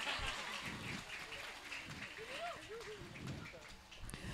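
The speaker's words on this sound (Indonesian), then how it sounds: "Tepuk tangan dulu untuk yang rambutnya basah." Crowd applause at a wedding dhikr and shalawat gathering, a steady wash of clapping that runs the whole moment alongside a speaking voice.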